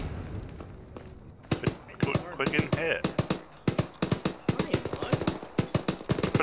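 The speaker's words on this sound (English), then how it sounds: "Gunfire over there." Rapid bursts of video-game gunfire crack out in irregular volleys, some single shots and some quick strings, fairly close and loud over a low background rumble, with players talking between them.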